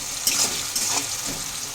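Chopped onions with a little salt frying in oil for Kolkata-style ghugni, a bright, hissing sizzle close by that swells briefly as they are stirred, then settles.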